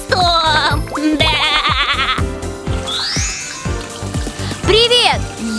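A voice imitates a goat's bleat in a children's zodiac song, wavering repeated bleats sung over bright musical backing with sung lyrics.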